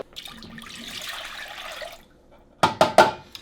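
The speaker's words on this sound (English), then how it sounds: "See, that cream is so heavy, it's still, even after running water in there." Tap water runs steadily into a cooking pot that already holds heavy cream, making a continuous close splashing rush, followed by three short sharp clanks or knocks near the end.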